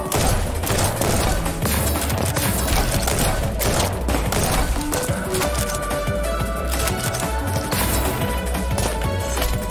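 Dense, continuous rapid gunfire from weapons in the fast-paced shooter Neon White, loud and close with overlapping shots and game effects throughout, no talking.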